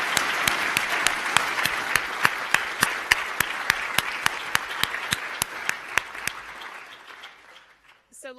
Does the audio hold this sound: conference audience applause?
yes